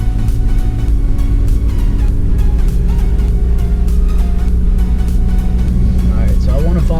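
A lowered front-wheel-drive car driving slowly through snow, about 17 mph, with a steady low engine and road drone throughout and someone talking over it.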